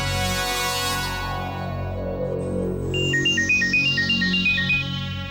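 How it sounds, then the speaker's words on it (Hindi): A telephone ringtone in a Hindi TV drama scene, entering partway through as a repeating electronic melody of short stepped tones over a steady musical background. "थैंक गॉड रिंग जा रही है।"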